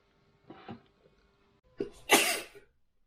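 Two sneezes indoors, a small muffled one followed after a pause by a louder, sharper full sneeze with a breathy burst.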